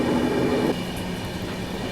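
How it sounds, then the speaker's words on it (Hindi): The Tamil Nadu Superfast Express runs near Hazrat Nizamuddin in the rain, giving a steady close rumble of rolling wheels and carriage noise heard from on board. "अपनी ट्रेन अभी स्किप करने वाली है हज़रत निज़ामुद्दीन रेलवे स्टेशन को"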